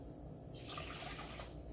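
Water poured into a cooking pot for a gluten-free, dairy-free strawberry dessert, a short, soft splashing stream lasting about a second over quiet kitchen background.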